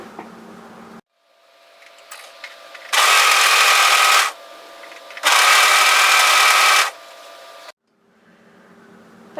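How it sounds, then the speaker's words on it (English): A serger stitching the side seam of a capelet hoodie, running from wrist to underarm in two loud, steady bursts of rapid whirring separated by a short pause, with quiet handling noise before and after. "let's just start at the wrist area and serge up through to the underarm"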